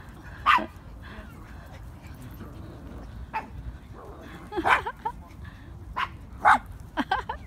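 Dogs bark and yip in a lakeside park, a few sharp barks and short yelps scattered over several seconds at moderate distance, with faint background murmur and occasional voices.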